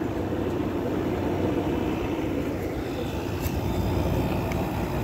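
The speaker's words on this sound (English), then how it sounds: "Got some refrigeration noises too going on back here." Steady broadband hum and whir of a Sanyo rotary compressor running in a garage air conditioner on a cold start, constant and fairly loud up close with no talking over it.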